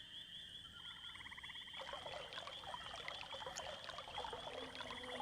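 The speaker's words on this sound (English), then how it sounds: "The magical water pours into the roots of the dryad and she comes to life." Magical water pouring onto a dryad's roots in the Quest for Glory 5 video game, a soft trickling, bubbling pour that builds midway and runs steadily under a faint high tone, quiet and with no talking.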